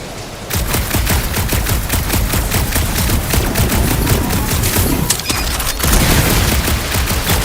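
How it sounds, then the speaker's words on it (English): A dense, unbroken volley of rapid gunfire pounds a gunked-up reactor in the Guardians of the Galaxy video game, loud and close for the whole stretch with no talking. "A couple of shots should bring it down."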